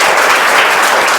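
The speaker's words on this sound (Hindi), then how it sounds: "ताली बजाओ।" A crowd of students claps steadily for a classmate at a school prize distribution, dense and continuous applause filling the whole short moment.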